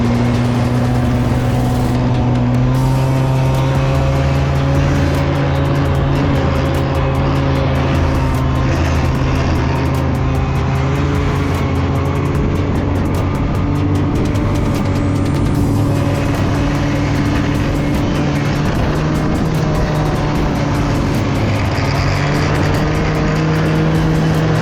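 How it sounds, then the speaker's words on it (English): A Polaris snow vehicle or ATV drives through snow at Gulmarg, Kashmir. Its engine drones loudly and steadily from close by, with a sustained hum and shifting tone the whole time. "This piece, a Polaris snow vehicle."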